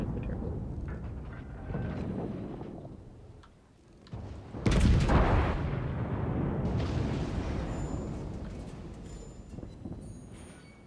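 Naval guns fire on Spanish ships in a World of Warships style naval battle game, with a loud heavy boom at about five seconds rising over a steady rumbling battle din that stays busy throughout.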